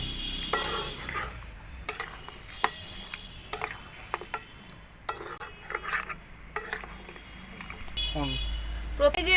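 A spoon clinks and scrapes against a pan as mutton is stirred and mixed for Bengali mutton kosha, giving irregular metallic knocks over a faint sizzle, with a voice speaking briefly in between.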